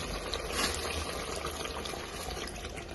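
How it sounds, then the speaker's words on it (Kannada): Water poured into a pot of chicken curry (chicken sambar), a steady close splashing and gurgling fill with no break over a few seconds. "ಇವಾಗ ನೀರು ಹಾಕ್ತೀನಿ ಒಂದು ಸ್ವಲ್ಪ."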